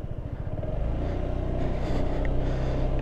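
A Honda SH125i 125cc scooter engine chugs and then settles into a steady, fairly loud running drone with a slight clatter, heard up close without talk.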